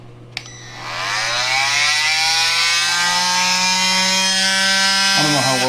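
A Milwaukee M12 oscillating multi-tool runs after a brief click, holding a steady, loud buzzing whine for several seconds with a slight pitch shift near the end.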